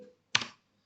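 A single short burst of keystrokes on a computer keyboard while entering router configuration commands, close and fairly loud, with quiet before and after.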